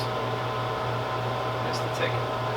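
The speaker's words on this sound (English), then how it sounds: "Sorry for the heater noise" Heater running in a cold workshop: a constant low mechanical hum with steady airy hiss, unchanging throughout, with faint brief clinks over it.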